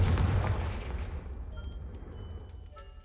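The Confringo fire spell in the game Hogwarts Legacy, a loud booming blast that decays into a fading rumble with faint tonal ringing after it.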